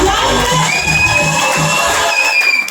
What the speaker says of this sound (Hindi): तो देखो जबरदस्त तालियां वैदिक के लिए, जबरदस्त